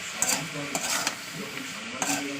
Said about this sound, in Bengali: ভালো করে তেলের সঙ্গে এটা নাড়াচাড়া করবো